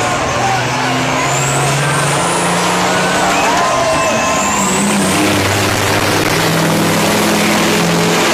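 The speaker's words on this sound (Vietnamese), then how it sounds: "Đó là cách động cơ quay với toàn bộ sức mạnh và tải trọng." A 2009 Rodeo truck roars steadily under full power and load in a drag-racing setting. The engine noise is loud and continuous, with rising whines and a low drone throughout.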